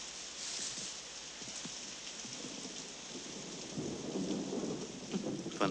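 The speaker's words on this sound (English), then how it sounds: "I hate the rain." Steady rain patters on surfaces in an animated film scene while low rumbles of thunder roll underneath, moderately loud and continuous with no voices.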